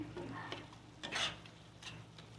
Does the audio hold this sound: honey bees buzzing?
no